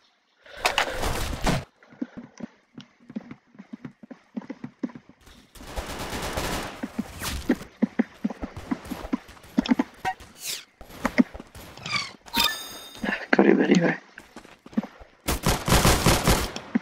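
Gunfire in the Roblox video game, bursts of rapid shots at several points among pauses and other game sounds, with someone talking in between.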